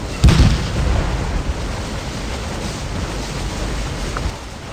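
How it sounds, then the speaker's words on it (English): Cannon fire in the Scourge of War: Gettysburg battle game, with one sharp boom near the start followed by a long rumbling, wash-like roar of distant battle noise that fades slightly toward the end. "I sneak some of our cannons from our original battery on the knoll in between the gaps of our regiments to fire canister at the advancing rebel forces"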